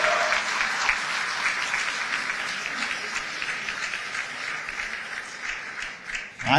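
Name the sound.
audience applause for Modi at Dubai diaspora event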